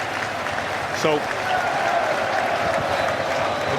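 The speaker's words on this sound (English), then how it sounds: "The crowd's making wonderful, wonderful noise, and they have been for the last half hour or so" Crowd noise in a football stadium at a Wrexham v Charlton Athletic match, a steady broad roar of clapping and cheering filling the background, with a brief spoken word over it.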